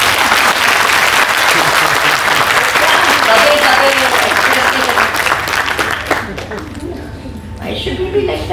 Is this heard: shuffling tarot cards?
no